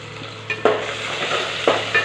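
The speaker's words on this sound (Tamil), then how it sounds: "சின்ன வெங்காயம் ஒரு 10 இதை எடுத்து பூண்டு ஒரு இதை போட்டு நல்லா தாளிச்சுக்கலாம்." Shallots, garlic and curry leaves frying in oil for fish kuzhambu, a close, steady sizzle broken by a couple of spoon stirs and scrapes against the pan.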